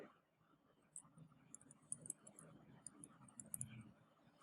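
Soft keystrokes typed on a computer keyboard while entering text into an input box, a quiet irregular run of clicks with low background murmur, ending in a sharper tap.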